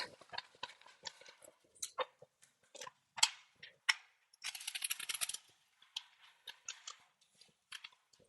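Tarot cards shuffle close by in quick papery riffles and flicks, with short clustered bursts and soft taps separated by brief pauses.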